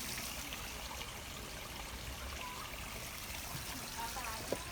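A freshly cleaned stream in a butterfly garden trickles and babbles steadily, a soft, continuous watery wash heard fairly close with faint outdoor ambience.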